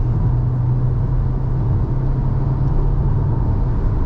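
A Volkswagen Taigun 1.5 GT accelerates in fourth gear from about 90 km/h. Loud, steady engine and road drone comes from inside the cabin, with no speech.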